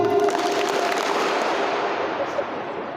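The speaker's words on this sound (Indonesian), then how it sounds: "Ini tepuk tangannya nggak kompak ya" Dense, uneven clapping from a seminar audience on entrepreneurship, loud and continuous for about three seconds and slowly thinning, with hands not in unison.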